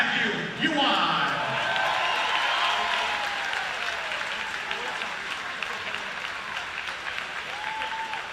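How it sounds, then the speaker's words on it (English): Crowd in the stands at the 2025 IHSA Boys Swimming & Diving State Finals applauds state diving champion Matthew Yuan: a full, sustained wash of clapping that starts loud, eases slightly, and has a brief amplified voice near the start. "One more round of applause for Matthew and all of our divers."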